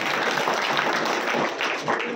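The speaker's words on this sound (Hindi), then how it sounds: "जोरदार तालियां" Loud crowd applause at a Congress party welcome event for a candidate, dense steady clapping sustained throughout without a break.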